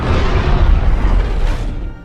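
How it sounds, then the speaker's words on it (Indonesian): A time bomb detonating aboard a mothership in a film, a loud, heavy explosion with a deep rumbling boom that fills the whole moment and slowly fades at the end. "bom waktu yang dipasang Korra duluan meledak"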